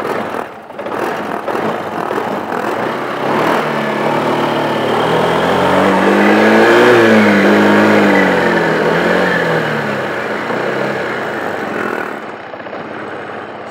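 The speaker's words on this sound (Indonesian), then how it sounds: "sekarang kita coba nyalakan motor." A motorcycle engine sputters to life and runs steadily, its revs swelling and easing over several seconds, loud and close with no talking.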